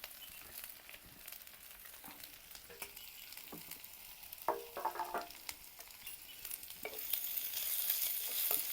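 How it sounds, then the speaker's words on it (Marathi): Sliced onion and green chilli fry in a pan for a drumstick flower dish, a soft continuous sizzle punctuated by occasional spatula scrapes and clinks, close but fairly quiet, without speech. "कांदा मिरची व्यवस्थित परतून घेऊया."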